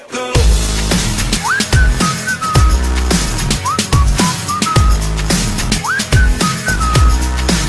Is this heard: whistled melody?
yes